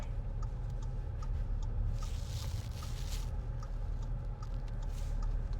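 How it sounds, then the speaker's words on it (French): Car turn signal indicator on a driving-school car ticking in a steady, regular rhythm, faint under a constant low engine and road rumble, with no talking. "Et puis indicateur à gauche."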